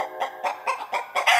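A rooster in a village clucks nearby in a steady series of six short, loud, evenly spaced calls.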